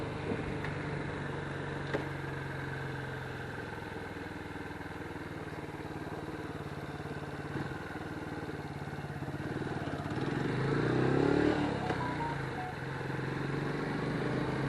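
A Lifan KP Mini 150 motorcycle engine idles steadily outdoors, a low, even running hum that holds throughout with a slight swell near the end and no talking.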